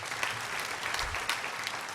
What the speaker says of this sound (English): Let's give them a round of applause once more.